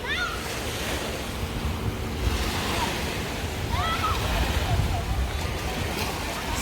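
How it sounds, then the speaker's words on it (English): Surf rolls steadily onto the beach at Colonial Beach, Virginia, a constant broad wash with wind noise and faint bird cries over it. "Okay, so this is the beach"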